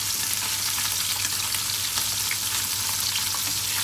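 Chapila fish fry in a frying pan, giving a loud, steady, close sizzling hiss that runs unbroken throughout with no voices.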